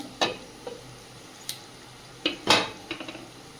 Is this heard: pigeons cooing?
no